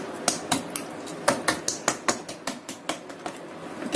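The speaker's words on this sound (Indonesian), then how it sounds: "Ini kita tusuk-tusuk menggunakan garpu supaya nanti bumbunya itu menyerap sampai ke dalam." Repeated tapping of a fork pricking raw chicken pieces on a cutting board, about a dozen sharp, close clicks in an uneven steady rhythm with no talking.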